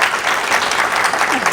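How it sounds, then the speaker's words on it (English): Audience applause fills the room at a public program on Kentucky ancestry, a dense, steady wash of many hands clapping close by, with a voice or two faintly mixed in. "Give her a round of applause"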